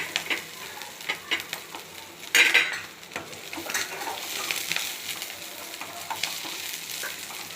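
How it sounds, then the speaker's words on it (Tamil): Chillies and onions being sautéed in a pan, a soft sizzle under repeated scraping and tapping of a utensil against the pan, with one sharper clatter partway through. "நல்லா வதக்கிடணும் மிளகாய் கொஞ்சம் வெங்காயம்"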